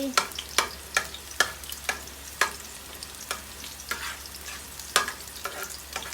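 Pork stir-fried with onion, tomato and sweet pepper in a pan: a soft sizzle runs under a steady rhythm of sharp spatula scrapes and clacks, roughly two a second, close and fairly loud, with no voices.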